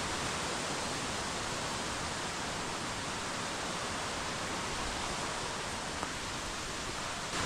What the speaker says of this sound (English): Waterfall number 1. It is absolutely gorgeous.